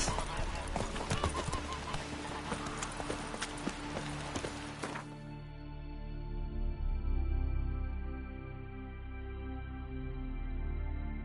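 A horse gallops in the video game The Witcher 3, its quick hoofbeats clattering for roughly five seconds and then fading out, leaving low steady music under a spoken voice.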